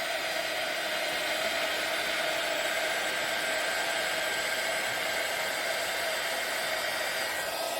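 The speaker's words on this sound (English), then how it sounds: "I'm going to use the heat tool" A heat tool blows hot air steadily onto a stamped and stenciled mixed-media art journal page, a loud, unbroken hiss that runs for the whole stretch with no talking.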